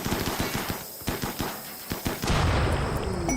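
Rapid gunfire in RimWorld, a string of sharp, evenly spaced shots cracking out one after another before giving way to a louder rushing, roaring burst near the end.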